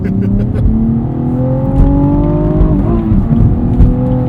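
A 2016 Cadillac ATS-V Coupe with manual gearbox driving, its engine droning steadily from inside the cabin with gliding pitch as revs climb and shift, loud and continuous.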